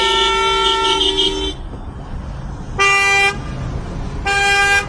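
A car horn blares in a long honk, then sounds twice more in shorter blasts after a pause, loud and close against faint street noise.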